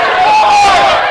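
A loud basketball crowd at a men's college game yells in the closing seconds as the clock runs down, one sustained roar of many voices close and full, with no single speaker standing out.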